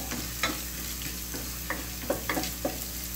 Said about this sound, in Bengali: এটাকে একটু ভেজে নেব আর কি।